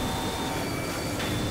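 A train rumbles past in the Nail'd offroad racing video game, a steady loud drone with a faint whine, heard alone without talk.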